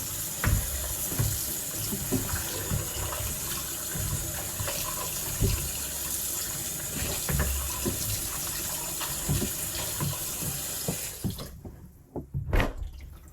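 Raw chicken rinsed under a running kitchen tap, a steady close splash of water into the sink with small sloshing movements, the flow cutting off near the end followed by a few drips and handling noises.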